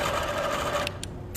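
A sewing machine does free-motion quilting micro stitches, a fast, close needle whir that stops partway, followed by a few brief clicks.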